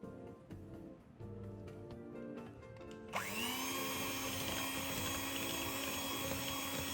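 An electric mixer starts up and beats butter with icing sugar in a bowl for crispy cereal cookies: a sudden steady motor whine with a rising pitch that settles into a constant near drone, after quieter clinks and handling sounds.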